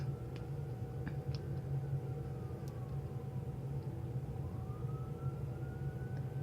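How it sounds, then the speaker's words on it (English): A distant siren on a highway slowly wails up and down, faint above a steady rumble of traffic noise. "I hope you'll excuse me if you hear the sirens"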